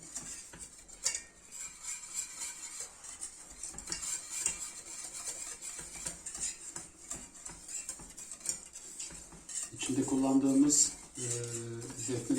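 A spoon stirs béchamel sauce with onion and grated nutmeg in a pot, giving soft repeated scraping and clinking against the metal throughout, with a louder clatter near the end.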